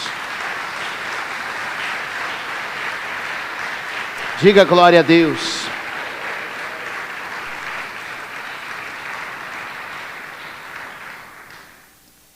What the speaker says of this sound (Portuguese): Vamos dar um aplauso ao Senhor Jesus.